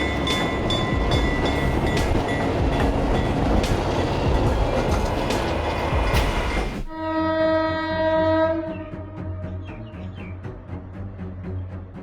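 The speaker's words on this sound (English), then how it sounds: "Amid falling snow, the Kashmir Express glides through the station, turning a routine pass into a winter scene." The Kashmir Express passing through a station in falling snow gives a loud, steady rail rumble for several seconds, then drops to a quieter, sustained tonal sound as it moves on, with no voices.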